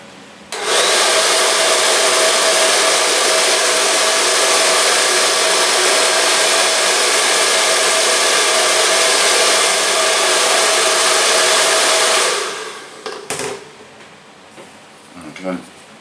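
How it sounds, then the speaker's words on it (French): A hair dryer blows on a freshly finished hood part of a Revell Mercedes AMG GT scale model, a loud, steady close-up roar running about twelve seconds before cutting off, followed by a few faint handling knocks. "Un petit coup de sécheur pour que ça aille plus vite à sécher."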